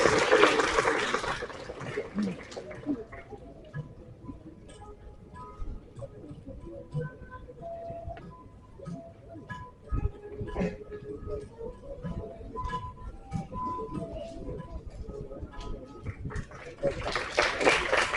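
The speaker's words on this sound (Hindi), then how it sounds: "एक बार जोरदार तालियां हो जाए वैष्णवी बजाज।" Applause from an audience at a Hindi Day celebration as a second-place prize winner is announced, a steady broadband patter of clapping that swells near the start and end, with faint tonal sounds running beneath.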